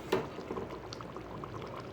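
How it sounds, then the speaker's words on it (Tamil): Thickened Chettinad mutton gravy bubbles and simmers in a pot on the stove, with soft, irregular bubbling and popping, faint and close, with no talk. "இது நல்லா ஒரு 15 நிமிஷம் நல்லா கொதித்து நல்லா மட்டன்லாம் வெந்து வரட்டும்."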